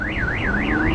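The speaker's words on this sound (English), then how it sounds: "the alarm's gone off" A 2016 Mercedes-Benz Vito van's car alarm wails loud and close, a rising-and-falling electronic siren sweeping in a steady repeating cycle over a continuous low hum, with no talking.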